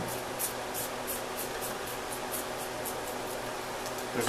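A close, steady hiss of cleaner sprayed onto a squeegee runs throughout, with faint rhythmic pulses in the spray and a soft rub at the end.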